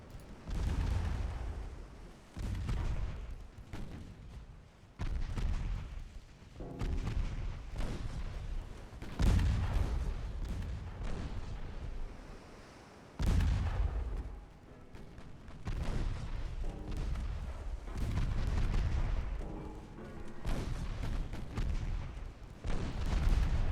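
Naval guns, including 4.2-inch and 3-inch pieces on transports, fire in a 1914-1915 French campaign naval battle game, producing repeated heavy booms and rumbling blasts in a dense, continuous barrage with no voices.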